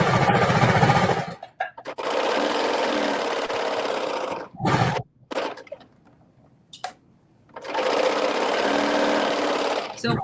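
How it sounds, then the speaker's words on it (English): Sewing machine stitching the back seam pieces of a dress, long loud runs of fast rhythmic whirring and clatter broken by short stops and quiet handling noise. "sewing the back seam pieces together"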